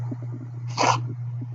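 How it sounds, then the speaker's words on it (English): A person's single sneeze bursts out close and loud over a steady low electrical hum, short and sharp in the middle of the stillness. "Shoot, I got to sneeze again."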